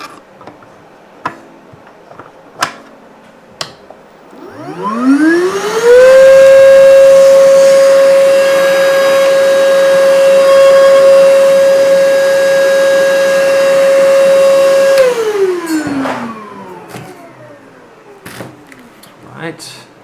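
A cordless compact wet/dry vacuum motor spins up with a rising whine, runs loud and steady for about ten seconds, then winds down amid clicks and handling noises.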